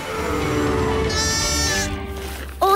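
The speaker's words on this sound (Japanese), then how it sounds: "お家にお帰り、羊ちゃん。" Cartoon sheep in the animated children's series Paw Patrol lets out a loud, drawn-out wavering bleat close up, ending with a short higher cry.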